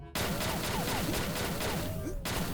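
Rapid volleys of shotgun blasts fire in a steady, dense rhythm in the shooter XSHOT, using an 8-star Ex Complete World-Immortal shotgun, loud and close throughout.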